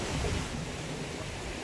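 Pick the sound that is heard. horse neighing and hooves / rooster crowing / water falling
water falling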